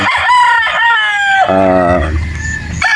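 A gamefowl rooster on a Batangas game farm crows loudly and close by, one long harmonic cock-a-doodle-doo that rises and then breaks into a lower drawn-out tail, with clucks around it.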